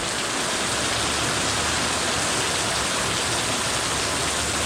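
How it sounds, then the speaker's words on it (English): Heavy rain drums steadily and loudly on a roof, a dense, unbroken roar that fills the whole stretch with no pauses and no voices. "That is quite a bit of rain."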